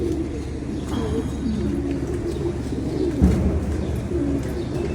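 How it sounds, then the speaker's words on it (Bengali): Pigeons coo in a steady low murmur, several birds at close range, with faint chirps above and one brief louder knock near the middle; no one speaks. "অনেক কবুতর আছে।"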